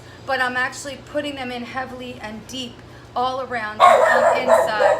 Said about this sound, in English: That's my dog barking at one of our employees coming